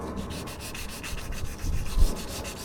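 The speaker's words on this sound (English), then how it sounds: "basically I'm just sanding down. Anywhere you see scratches" Steady sanding rubs on a Dodge Ram 1500 body around the rear window opening, scuffing down scratches before primer; continuous abrasive scraping at close range with a couple of heavier strokes near the end, no voices.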